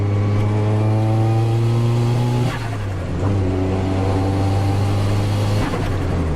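Modified Nissan 180SX (S13) with an SR20DET turbo engine revving loudly up close, two long steady high-rpm holds with a brief drop in between, the engine sound alone.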